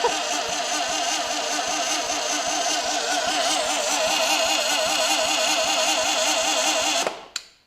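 A crusty old 36HP air-cooled VW engine being turned over by the starter without firing: a steady, rhythmic churning crank held for about seven seconds, then cutting off abruptly with a couple of clicks.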